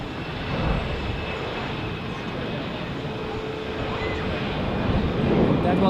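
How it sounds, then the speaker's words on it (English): An Edelweiss Airbus A320 departs from a runway at Zurich airport, its engines a steady, fairly distant broadband roar that swells slightly toward the end, with some talk over it. "That was the Edelweiss A320, which we saw pushing back a few minutes ago."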